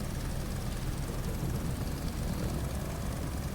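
Steady engine drone from a plane taxiing on the ground in Microsoft Flight Simulator 2020, holding one level with no voices.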